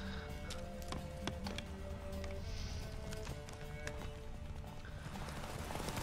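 Steady hoofbeats of a galloping horse in The Witcher 3 over a dense game soundscape with tonal hums and scattered clicks, continuous throughout.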